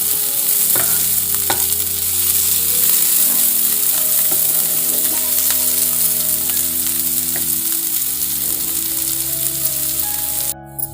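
Onions fry in a pan with a steady, close sizzle and crackle, punctuated by occasional scraping stirs, continuous for the whole stretch with no voices.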